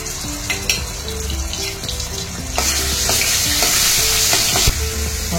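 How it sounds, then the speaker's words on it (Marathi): Vegetables coated in green ground paste, with mustard seeds, sauté in hot oil, a loud continuous sizzle with clinks and scrapes of stirring that grow busier partway through. "आता ही भाजी आपण शिजवून घेऊया 8 ते 9 मिनिटात"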